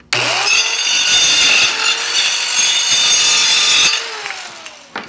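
A Dovaman mini circular saw cutting through laminate flooring: a loud, high whine through one continuous cut of about four seconds, then the blade spins down.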